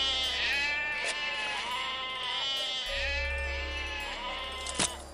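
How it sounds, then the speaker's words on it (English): Sheep in Trade Empires bleat over and over, several overlapping wavering calls that fill the clip over a steady background hum, with no talking. "That's a lot of sheep."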